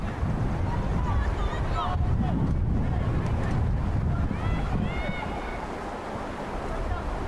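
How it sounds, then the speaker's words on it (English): Wind sweeps across the open Alumni Stadium in Guelph during a women's soccer match, a constant loud rushing roar buffeting the microphone, with faint voices underneath. "The wind picking back up here at Alumni Stadium as it is a wide open space"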